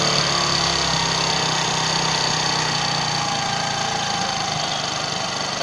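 A Hero HF Deluxe motorcycle engine idles steadily and loudly close by as its idle RPM is adjusted down, a continuous buzzing drone with a slight change in tone partway through.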